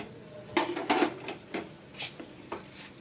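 Potato and egg curry cooking in a pan, with a few clanks and scrapes of a utensil against the pan over a faint sizzle, close and fairly quiet.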